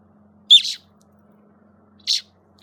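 A baby bird gives two short, high chirps about one and a half seconds apart, close and alone over a faint low hum.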